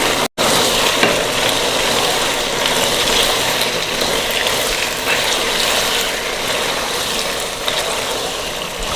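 Boiled penne pasta stirred in a frying pan, a steady crackling sizzle with scraping and clicking texture running continuously and close, without talk.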